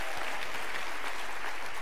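An indoor audience applauds a DJ at a leadership talk, giving a dense, steady burst of clapping that lasts just under two seconds and carries no talking.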